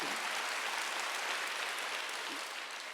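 A church congregation claps during a Wednesday worship service, a dense, even wash of applause that holds steady for a few seconds without pause.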